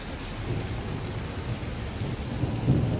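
Heavy, steady rain pours down with a dense hiss, and low thunder rumbles beneath it, swelling slightly near the end, with no voices over it.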